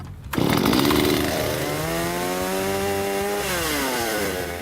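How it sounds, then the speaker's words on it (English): A chainsaw starts up and runs at a fire department demonstration, a loud close snarl that rises in pitch, holds a steady buzzing whine and then dips slightly. "This is where the chainsaw works better than the partner combination saw."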